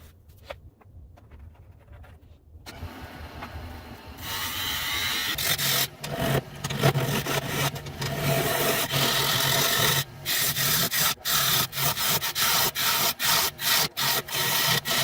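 Black locust wood being turned on a lathe; after a quiet start, a loud continuous scraping and rubbing of the tool on spinning wood builds up, broken by short pauses and repeated cuts.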